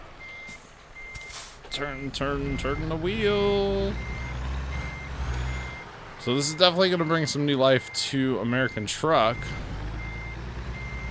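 Reversing beeps from a truck backing a trailer into place in American Truck Simulator, a steady repeating electronic tone running throughout beneath two people talking over it.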